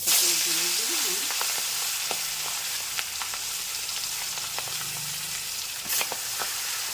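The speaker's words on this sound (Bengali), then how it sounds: "মাছ ভাজা করছি বড় মাছ ভাজা" Pieces of rohu fish rubbed with salt and turmeric fry in hot oil in a kadai, giving a steady, close sizzle. Sharp crackling pops break through the hiss, and a voice comes in briefly at the start.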